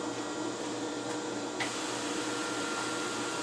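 A Pierson Smartvac II Venturi vacuum hold-down system runs with a steady, broad rushing hiss and a low hum, constant and fairly loud throughout with no voices.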